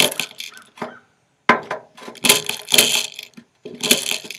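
Airsoft BBs poured into a King Arms grenade shell, coming in bursts of crunchy, rattling clicks and clinks with short pauses between pours, close and fairly loud.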